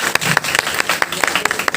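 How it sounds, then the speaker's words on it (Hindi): Applause from the audience at an open mic and food carving event at RGSC BHU, loud with distinct individual claps in an uneven rhythm over a thinner wash of crowd clapping, continuing steadily to the end. "जोरदार तालियां हो जाए"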